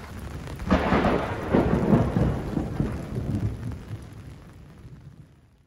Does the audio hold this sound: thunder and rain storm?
yes